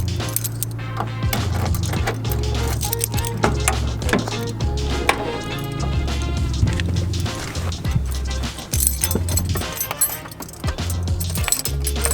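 A bunch of keys jangles and clinks repeatedly at close range, metallic rattles scattered over a steady low engine drone.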